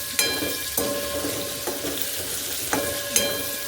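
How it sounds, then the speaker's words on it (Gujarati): Stuffed okra (bhindo) fries in oil over a low flame with a steady soft sizzle, broken by a few sharp clinks and scrapes of stirring at close range. "ભીંડાનો મસાલો કરીને આખો ભરી લીધો છે અને હવે તેલમાં એને ધીમે ગેસે ચડવા દઈશું"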